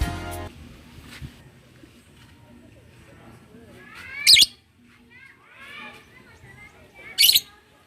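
Lovebirds in a small outdoor aviary give scattered chirps and shrill calls, with two loud sharp squawks standing out, while someone talks over much of it.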